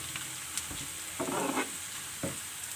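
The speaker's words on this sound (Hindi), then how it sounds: "प्याज को हम लाइट ब्राउन करेंगे।" Onions frying in oil with whole garam masala for a tempering, a soft steady sizzle with a few brief scraping stirs of a spoon in the pan.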